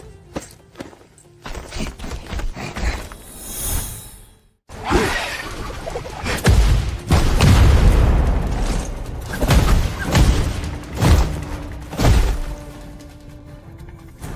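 Long-range bombardment in a dramatic battle scene brings several heavy booming blasts with whooshing debris and crackle, loud and close, arriving in bursts after a brief hush.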